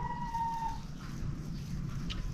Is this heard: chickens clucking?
yes